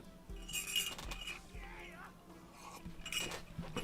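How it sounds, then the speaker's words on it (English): A spoon stirs tea in a cup, giving a few light, bright clinks spread over a few seconds, close by and fairly quiet against a soft room background. "Let me stir my tea"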